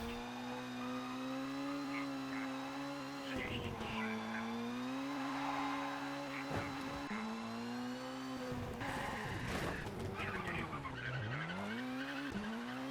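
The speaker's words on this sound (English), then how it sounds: "Damn, what a good handbrake turn." A video game car engine drones with steady tonal harmonics, then dips and slides into a long tire skid during a handbrake turn, with screeching squeals and revving surges; a person talks faintly over the racing sounds.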